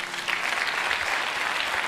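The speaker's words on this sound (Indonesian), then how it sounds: "Tepuk tangan, saudara." An audience claps in a dense, steady round of applause that stays loud and even throughout.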